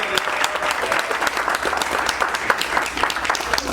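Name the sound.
audience applause for Pastor Wendell Jones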